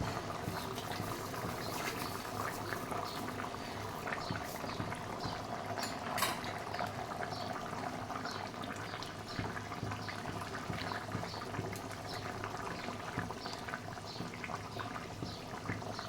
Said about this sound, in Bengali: এটা একটু ফুটুক।